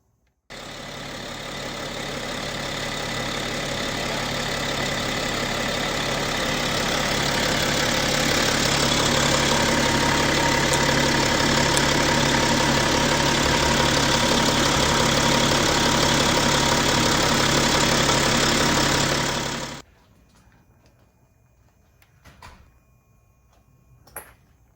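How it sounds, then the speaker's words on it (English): A BMW E70 X5d diesel engine idles steadily and loudly for about twenty seconds while warming to operating temperature after a fluid service, then cuts off, leaving near silence with a few faint clicks. "we'll fire up the engine, get that thing up to operating temperature"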